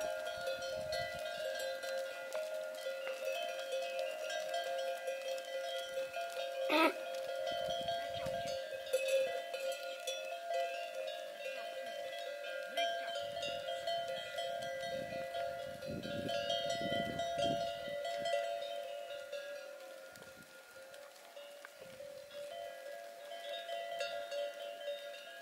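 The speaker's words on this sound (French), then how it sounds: "Plus d'une centaine de chèvres!" A herd of over a hundred goats in the Andalusian mountains, with clanking bells ringing steadily throughout amid a constant tonal drone and occasional low rumbles.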